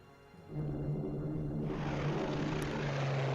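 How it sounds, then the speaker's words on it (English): Maritime bombers flying in from Australia in Strategic Command WWII: War in the Pacific: a low droning aircraft engine rumble swells up and holds steady and loud, with no voices. "Maritime bombers coming in from Australia"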